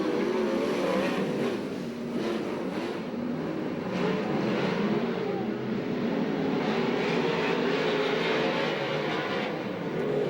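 USAC/CRA sprint cars race at Alger, Washington, their engines blending into a loud, continuous roar that swells and fades slightly as the pack runs, with no voices over it.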